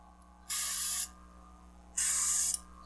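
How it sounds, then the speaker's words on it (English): An airbrush kit's air compressor hisses in two short, sharp bursts of air about a second apart, close and fairly loud over a faint steady hum. "I'm wondering how long the compressor, if it's going to run all the time or if it will eventually build up pressure to the point where it kicks off."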